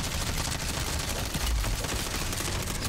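Rapid, dense gunfire pours out nonstop at a zombie horde in a video game, a loud sustained fusillade of shots with no pause across the whole stretch.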